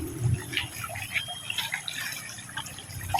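Water in a shallow stream gurgles and splashes while people wade across on foot, with close trickles and drips scattered over the flow.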